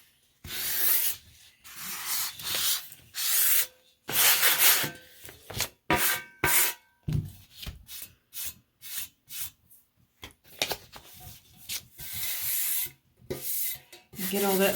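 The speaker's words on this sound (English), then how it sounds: "So we're going to do the same thing with the sandpaper again." Painted wood being sanded by hand with sandpaper: repeated bursts of rough rubbing strokes in an uneven rhythm with short pauses between, close and fairly loud, with no talk.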